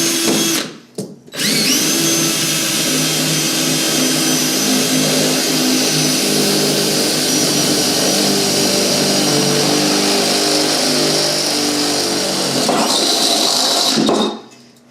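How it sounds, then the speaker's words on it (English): A power drill bores holes into a Weber Smokey Joe grill, running loud and steady for over ten seconds after a brief start and stop, then cutting out at the end. "I probably should have drilled a pilot hole"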